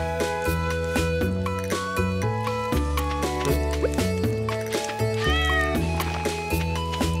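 A cat meows in the farming video game Stardew Valley, with short rising cries set against steady, looping background game music.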